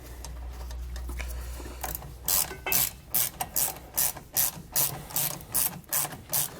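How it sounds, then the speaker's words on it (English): A hand ratchet turning a 1/2 inch socket snugs down bolts on a Kodiak disc brake kit for a 2020 Jayco Pinnacle trailer, giving a steady series of about a dozen crisp, close clicking bursts after a low rumbling start. "insert our bolts here and tighten them down with a 1/2 inch socket"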